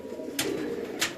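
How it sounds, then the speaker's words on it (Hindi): Pigeons cooing in a low, murmuring drone close at hand, broken by two sharp bursts of wing flapping or rustling, fairly quiet, with no voices. "क्या बात है, एक से एक कबूतर आ रहा है"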